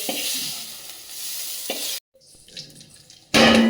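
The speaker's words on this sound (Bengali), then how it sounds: "জিরা দিয়ে দিলাম একটু, আর শুকনো মরিচ দিয়ে দিলাম" Cumin seeds and dried chillies hit hot cooking oil in a home kitchen, giving a loud, steady sizzle that cuts out briefly, then returns with a sharp, bright burst of frying hiss.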